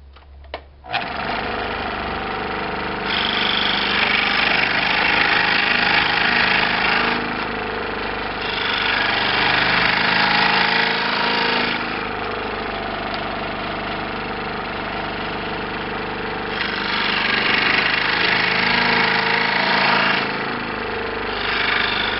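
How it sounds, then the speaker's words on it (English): A woodworking machine makes radial cuts for a curved tenon: a loud, steady motor drone that swells into three longer, harsher cutting passes, with no talking. "we can make the radial cuts of the tenon"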